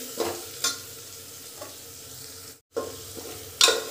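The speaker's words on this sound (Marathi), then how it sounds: "आता हे सर्व आपल्याला तेलामध्ये फ्राय करून घ्यायचे." Cumin powder and garam masala frying in oil crackle softly in a pan, with a few sharp scrape-and-stir clicks spaced through the short stretch and a brief silent gap near the end.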